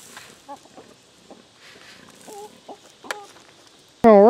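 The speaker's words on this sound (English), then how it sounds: "Let's go give this to the chickens." Chickens cluck softly in scattered, irregular bursts at a little distance, until a voice cuts in loudly at the very end.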